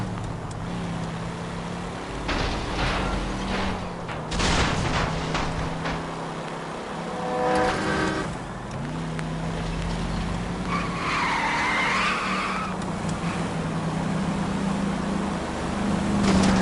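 Car skidding with squealing tires and a revving engine in the L.A. Noire video game, loud and close, with bursts of engine noise and a long tire screech near the end.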